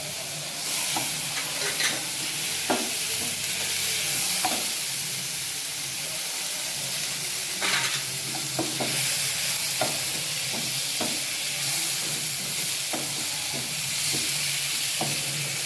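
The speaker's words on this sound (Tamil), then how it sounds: "தக்காளி சேர்த்துக்கலாம். அதையும் சேர்த்து நம்ம வதக்கிக்கலாம்." Tomatoes sautéing with ginger-garlic paste in a pan for kadalai curry, a continuous close sizzle broken by regular clinks and scrapes of a stirring spoon; no voices.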